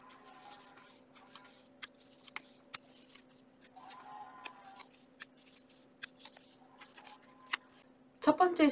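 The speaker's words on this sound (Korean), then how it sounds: "카드 뽑아볼게요." Tarot cards being shuffled up close, with soft repeated riffling and sharp card flicks over a steady low hum, and a louder rustle near the end.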